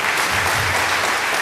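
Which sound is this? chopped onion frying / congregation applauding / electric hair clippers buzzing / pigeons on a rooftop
congregation applauding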